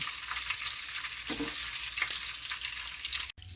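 Meatballs fry in hot oil in a pot, giving a steady, close crackling sizzle with a few brief stirring bumps and no talking.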